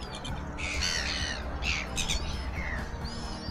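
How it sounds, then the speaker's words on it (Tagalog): A flock of birds squawks and caws repeatedly on a rocky shore where mussels are picked, several harsh calls overlapping over a constant low background rumble. "Ang daming ibon ngayon."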